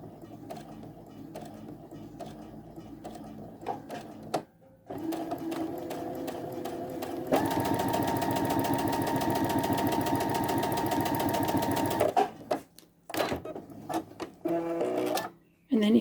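A sewing machine stitches a straight line in steady bursts, its rapid mechanical whir running continuously for several seconds between shorter starts and stops, close by, with a person talking around the stitching.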